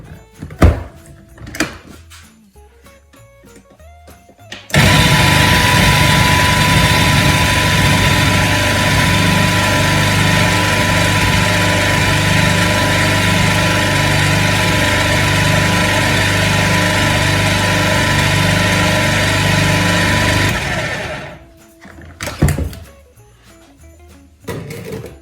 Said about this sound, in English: Eggs, sweetener. Whisk all that together.